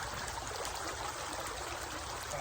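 Close, continuous babble of a creek swirling around a gold pan kept submerged while prospecting on a fall riverbank, an even trickling rush with no voices over it.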